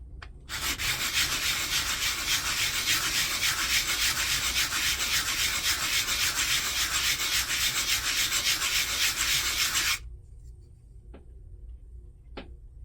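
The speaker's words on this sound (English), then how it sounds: "What I'm doing is a figure-8 lap cut, making sure that it's evenly sanded all the way around" A 3D-printed part sanded by hand in figure-8 strokes, a loud, steady, close rasping scrub for about ten seconds that stops abruptly, followed by near silence with a couple of small taps.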